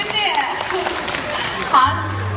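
An audience applauds a teacher after a Yue opera performance of a ten-school medley chorus, a dense patter of clapping blended with crowd noise and mixed with a voice speaking over it.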